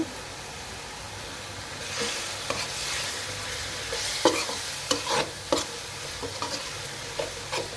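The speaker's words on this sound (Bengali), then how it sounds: "এখন মশলাটাকে ভালো করে কষিয়ে নিব।" Spice paste with chili and turmeric fried and stirred for a dried loitta fish and potato dish: a continuous soft sizzle under intermittent sharp scrapes of a spatula against the pan.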